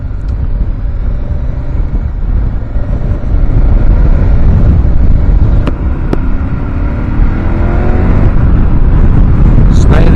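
A KTM 1190 Adventure motorcycle holds a burnout with a loud, steady engine roar and rough rumble for about ten seconds, with brief sharp spikes over the sustained noise.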